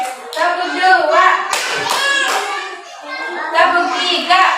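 Children in a classroom play a counting clapping game, a few sharp hand claps landing in rhythm between bursts of loud chanting voices.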